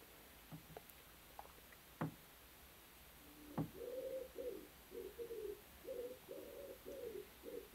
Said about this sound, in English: There's a pigeon on the dark room roof.